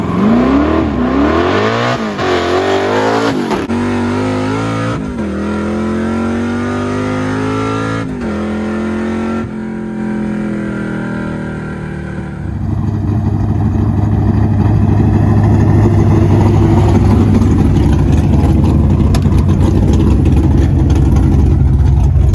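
A Ford Mustang driven hard, its engine revving up and down through rising and falling pitch sweeps, then settling into a loud, steady, heavy drone up close, with no talking.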